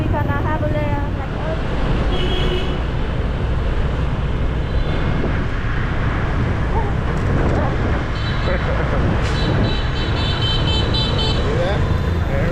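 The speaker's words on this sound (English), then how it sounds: "That's how the traffic is here." Busy street traffic in Hanoi, with a dense roar of motorbikes and cars close by and several short car horn toots sounding over it, continuing without a break.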